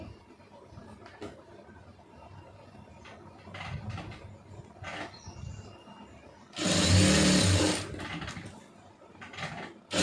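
A sewing machine stitching a blouse lining makes one loud burst of rapid whirring that lasts about a second and a half. Quieter handling clicks and rustles of fabric come before and after it.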